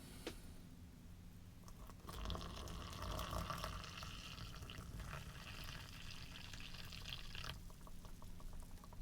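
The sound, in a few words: pouring water into ration pouch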